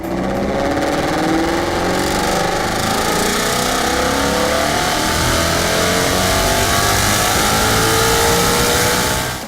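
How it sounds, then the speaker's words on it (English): A performance car's exhaust note as the engine revs hard, a loud, continuous, rising roar with no pauses and no talking. "And that exhaust note, that is the way cars were meant to sound."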